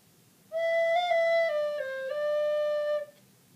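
Single bar played on a recorder: a few sustained, pure, breathy notes stepping down and back up, close and clear for about two and a half seconds, with no talking.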